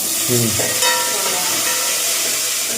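Curry leaves for a spicy tamarind kara kuzhambu crackle and hiss in hot oil, a steady close sizzle with a faint tonal hum running through it.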